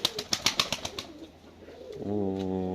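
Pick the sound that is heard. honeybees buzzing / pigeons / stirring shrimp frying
pigeons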